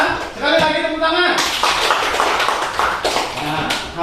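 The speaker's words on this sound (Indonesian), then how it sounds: "Ya, sekali lagi tepuk tangan." After a few spoken words, a classroom group breaks into another round of clapping during a fiqh lesson. The sharp, busy claps fill the rest of the moment, with voices mixed in.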